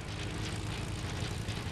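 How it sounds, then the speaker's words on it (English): Airplane flying over near an airport, a steady, fairly faint engine drone without voices. "Is that plane landing here?"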